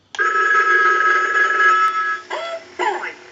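An animated Mickey Mouse telephone from Pacific Bell rings steadily and close for about two seconds, a bright electronic bell tone, then a short burst of cartoonish speech from the toy follows.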